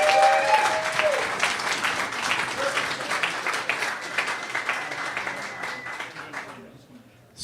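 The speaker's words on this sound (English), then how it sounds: "Everyone give a round of applause and a warm welcome to Charles Hoskinson" An audience applauds at a developer and governance day event to welcome Charles Hoskinson, steady dense clapping that slowly thins toward the end, with a voice briefly heard over it.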